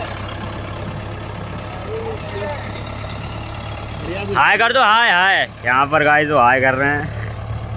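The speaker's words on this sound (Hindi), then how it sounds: "ट्रैक्टर फंस चुका है ये वाला, देख सकते हैं इस वाले ट्रैक्टर को।" A stuck tractor and a 4x4 pulling it free in a field: a steady low engine rumble runs throughout, with loud voices shouting over it in the second half.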